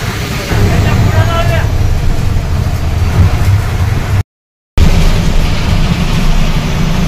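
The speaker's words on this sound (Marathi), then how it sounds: "आता बसचा प्रवास सुरू आहे." A bus drives along a rainy road, a loud continuous engine rumble and road roar with a brief dropout, while people talk over it.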